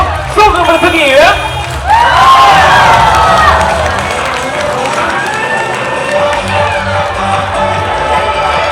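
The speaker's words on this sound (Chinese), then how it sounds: "把最后一次的掌声与呐喊声送给我们的特技演员" An outdoor stunt show audience cheers and claps for motorcycle stunt performers, a loud crowd roar with shouts and whoops rising early, then settling into sustained clapping and chatter. An announcer's voice carries over the noise at the start.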